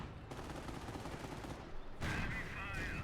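Dense gunfire and machine-gun bursts rattle steadily in the World War II strategy game Company of Heroes, growing heavier and louder partway through.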